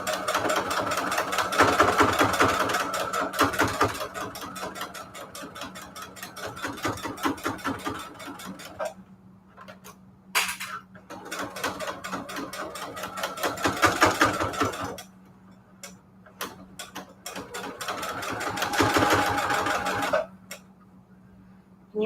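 A sewing machine stitches fabric patchwork banners in a craft room, running in three sustained bursts of rapid mechanical needle clatter over a steady motor hum, with short pauses and clicks between runs.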